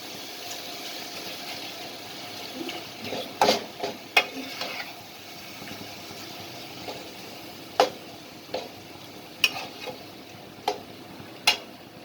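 Chicken being added to vegetables in a pan and stirred, with a soft frying hiss underneath and a series of sharp spoon scrapes and clinks at irregular intervals, close and fairly quiet.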